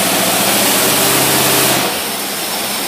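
Engine on a stand with an AFB 2x4 carburetor setup, held wide open against the rev limiter; a loud, steady high-rpm drone that drops and settles slightly near the end, with no voices.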